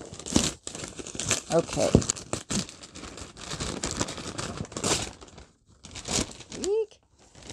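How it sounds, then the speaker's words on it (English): Packaging crinkles and rustles in bursts as a big box is opened nearby, with a brief spoken word in between. "There's going to be lots of crinkling here, guys"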